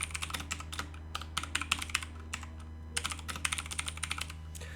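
Close keyboard typing as a multi-line code comment is entered in a C program, steady clicks in quick bursts with brief gaps over a low constant hum.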